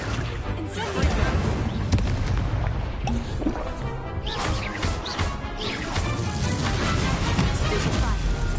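In Hogwarts Legacy the Incendio fire spell erupts in a dense crashing burst with booms and whooshing flame, steady and loud over busy game sounds, with a voice speaking over it.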